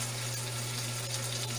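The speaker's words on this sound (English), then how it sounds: "and then we can put water" Water is poured into a pan of Filipino chicken curry as a steady, even rushing stream over a low constant hum, with no talking.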